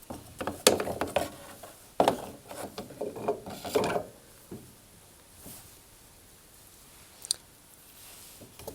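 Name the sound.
refitting the fan in a Hoover tumble dryer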